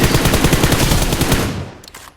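Rapid automatic gunfire bursts from a shooting video game, loud and close, a fast rattling stream of shots that tails off into quieter echoes.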